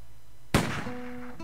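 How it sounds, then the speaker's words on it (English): A single sharp gunshot from the visual novel Dracu-riot!, loud and close, cracking out of a quiet backdrop and then trailing into a lingering echo, with a soft tone running underneath. "The gunshot echoes in the sea breeze."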